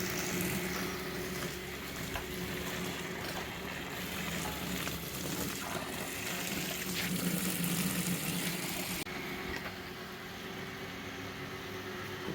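A Master brand water pump draws still-muddy water from a newly drilled borewell, giving a steady, loud broadband rush with a low mechanical hum underneath, constant throughout with no voices.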